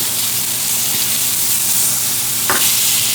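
Pork chops sizzle steadily in a hot frying pan, a loud continuous crackle throughout, with a brief burst of louder spitting as a chop is flipped near the end.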